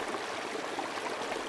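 River water burbling continuously, a steady rushing gurgle with no pauses and no voices.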